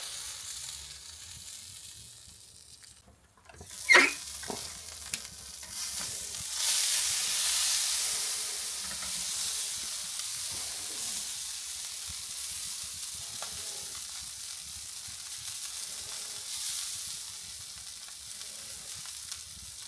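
Picanha top sirloin searing on a hot grill: a sharp clatter and hiss as the meat goes down, then a steady, moderately loud sizzle that carries on alone.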